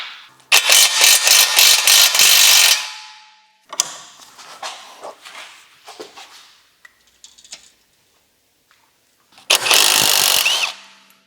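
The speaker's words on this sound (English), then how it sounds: "21mm wrench, start to remove the nuts" A 21mm wrench removes the nuts on the front lower suspension arm of a 2010 Porsche Cayenne 957, producing loud, harsh mechanical bursts with rattling and clanking in the pauses between them, nearby and alone.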